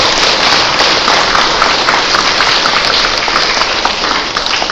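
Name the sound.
congregation applause thanking the priest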